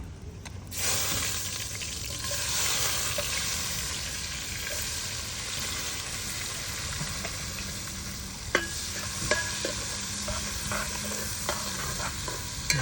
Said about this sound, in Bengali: পেঁয়াজটা লাড়া দেওয়া